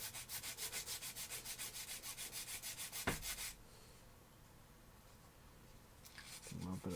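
Hand filing on the sides of a plastic model kit part for a three-wheeler kitbash: quick, even rasping strokes repeat close up for a few seconds, then stop, leaving quiet room tone and a few faint handling sounds.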